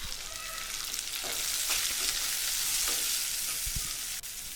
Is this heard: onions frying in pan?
yes